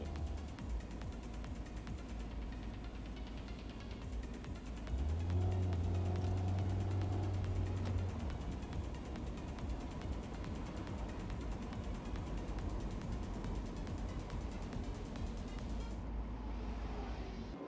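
A Mazda Roadster RF sports car drives along at low speed, heard as a steady engine hum and road rumble from inside the cabin, with a brief rise in engine note partway through.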